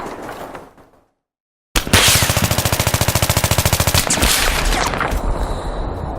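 Rapid automatic gunfire in a Battlefield Hardline firefight, a sustained burst of evenly spaced loud shots after a brief silence, followed by continued heavy shooting and rumbling.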